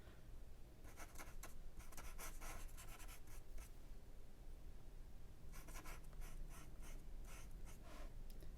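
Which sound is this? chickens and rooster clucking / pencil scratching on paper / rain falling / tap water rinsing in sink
pencil scratching on paper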